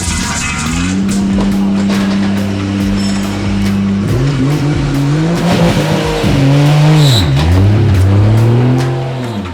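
A Formula Drift car at an Orlando pro drifting event pulls away loudly, engine revving up through gear changes with tire noise, continuous and close across the whole stretch.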